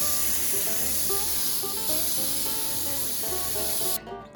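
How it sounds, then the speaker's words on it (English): Spray paint hisses steadily onto an A-frame sign, laying down a sunburst fade around its edges, a continuous close airy spray over faint background music, cutting off near the end. "Started this one off by spraying a sunburst fade around the edges of the sign."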